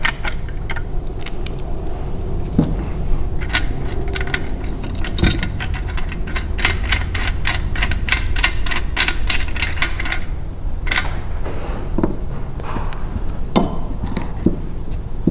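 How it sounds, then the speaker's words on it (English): Pre-assembled bolts being removed from a Toro Recycler CheckMate striping kit, with close metallic ticking, clinking and ratcheting clicks repeating steadily over a constant hum. "take your bolts out."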